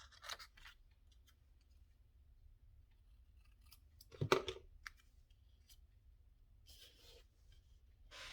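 Scissors cutting paper for an autumn-themed journal craft, a few quiet snips scattered through near silence with one louder cut midway.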